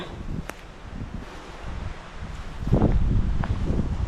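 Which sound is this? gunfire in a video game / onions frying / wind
wind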